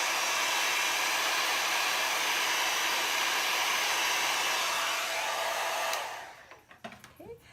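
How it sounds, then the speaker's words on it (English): A heat gun or hair dryer blows steadily and loudly on a chalk transfer paste stencil for about six seconds, then switches off, leaving faint handling noises. "when you use your heat gun, or it can be just a hairdryer"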